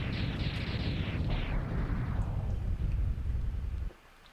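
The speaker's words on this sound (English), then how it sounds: "Sigma's castle explodes" Sigma's castle blowing apart in the Mega Man X game: a long, loud roaring explosion rumble that tapers off over several seconds before cutting sharply to near silence.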